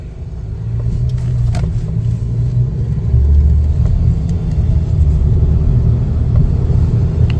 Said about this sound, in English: Take it for a drive here.